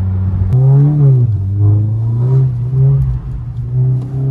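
A Volkswagen Golf 7 GTI facelift with a Stage 2 tune accelerates in sport mode, its engine a steady, close, droning hum that rises and dips without any talk.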